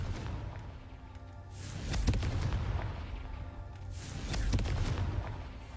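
Two booming blasts of the Confringo spell in Hogwarts Legacy, each a loud, rumbling explosion with crackling debris, the two spaced a couple of seconds apart.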